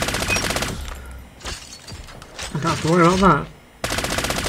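Rapid automatic fire from an M13 rifle in a Call of Duty ranked match, dense bursts at the start and end of the clip, with a short spoken phrase and quieter game ambience between them.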